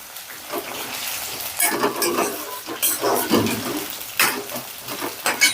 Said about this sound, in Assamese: আৰু আলু কেইটুকুৰাও ভাজি ল'ম ধুনীয়াকৈ।